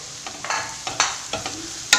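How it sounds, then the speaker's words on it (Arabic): Grated carrot frying with onions in a pan, a soft sizzle broken by several sharp scraping stirs at irregular intervals, close and alone with no talk. "نزيد معاهم حوالي حبه تاع الزروديه مسكرفجه في سكرفاج الخشين، نزيدها معاهم تتقلى مليح"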